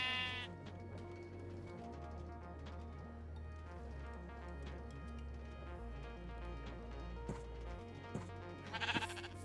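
Sheep in the Minecraft modpack Stoneblock 3 bleat again and again, several overlapping game-style baas over a low background music drone, with a brief brighter burst near the end.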